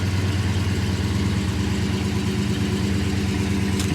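A 6.4-liter HEMI V8 in a Dodge Charger 392 Scat Pack Last Call idles, heard from outside the car as a loud, steady, deep rumble that holds an even pulse throughout with no talk.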